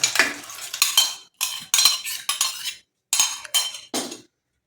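Cooked black-eyed peas are tipped into a pan of brinjal kuzhambu, giving a series of metallic clinks and scrapes of a utensil against the pan in short bursts with brief pauses.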